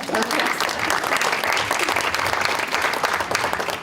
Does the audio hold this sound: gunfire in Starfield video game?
no